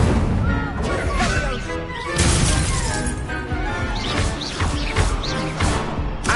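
Incendio fire spell cast in the Hogwarts Legacy video game during a duel, a dense run of loud crashing bursts and booming impacts that overlap almost continuously, with faint speech-like sounds mixed in.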